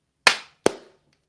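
Two sharp hand claps about 0.4 seconds apart, the first louder, each with a short room decay, alone in an otherwise quiet recording space before a Cuphead gaming session.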